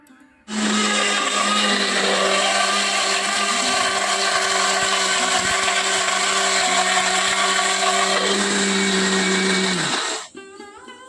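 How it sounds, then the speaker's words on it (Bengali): Kitchen mixer grinder whirring loudly as it blends thankuni leaves into a paste, starting abruptly, running steady and close for about ten seconds, then cutting off and winding down. "শিলে আর বাটলাম না মিক্সিতে পেস্ট করে নেব চলো"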